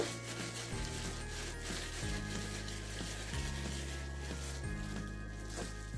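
Meatballs fry in a skillet with a steady, soft sizzle running throughout, set beneath prominent background music with a deep, stepping bass line.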